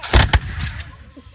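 Rifles fired in a ceremonial volley, two sharp near-simultaneous cracks close by, then a booming echo that rolls away and fades.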